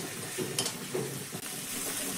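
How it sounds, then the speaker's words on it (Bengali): Spices and grated ginger fry in a pan for a vegetable semolina dish, with a steady soft sizzle, a couple of brief spoon scrapes and light stirring knocks close by, and no voices. "সব মশলাই আমার এখানে কিন্তু ভাজা হয়ে গেছে"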